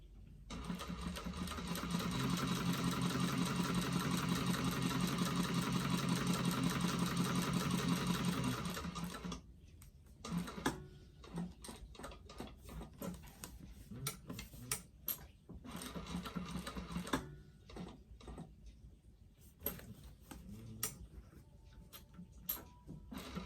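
A sewing machine hums in one sustained, close run, stitching around the corner of a Trailblazer Convertible Pack bag with a back stitch. It then falls silent, leaving sparse clicks and handling noises with a little talking.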